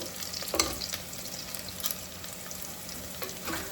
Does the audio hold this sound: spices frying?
yes